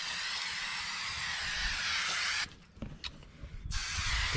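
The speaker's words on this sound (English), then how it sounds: "you want to spray both surfaces" A spray adhesive aerosol can sprays in a long steady hiss onto carpet and hardboard for a Toyota 4Runner rear seat, stops briefly with a few short bursts, then resumes spraying continuously, close by.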